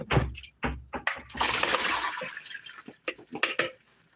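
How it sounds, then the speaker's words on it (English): Vinegar poured out of a container while making sweet and sour chicken wings at home, a loud splashing, gurgling pour of liquid lasting a couple of seconds between bursts of clatter and handling noise. "we're going to dump out the vinegar"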